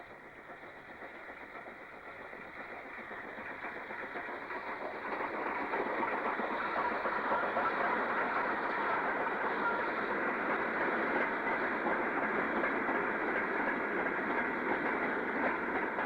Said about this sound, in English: WD 90698 heads more empty wagons to Seaham